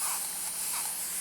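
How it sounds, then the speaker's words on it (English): A spray bottle mists water onto natural hair in a steady, close, hissing burst lasting about a second before cutting off abruptly. "I'm just going to start by spraying this piece down with some water"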